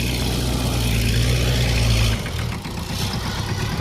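A Swaraj tractor engine idles with a steady low rumble, loud and near, then drops to a softer, uneven running sound partway through.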